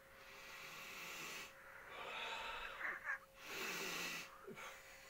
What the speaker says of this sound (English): Now give it a sniff test.